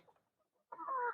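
A single hen, recovering from an illness that left its legs paralysed, gives a short, fairly faint clucking call after a brief quiet pause, close by.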